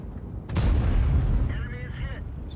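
A tank firing its main gun in a tank battle video game, one sharp loud blast followed by a rumbling low boom that decays over a couple of seconds, with mechanical whirring afterward and a voice talking over it.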